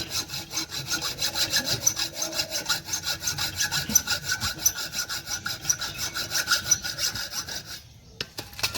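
A hand saw cuts off a handle piece in steady, rhythmic back-and-forth strokes, close and continuous for about eight seconds, then stopping abruptly.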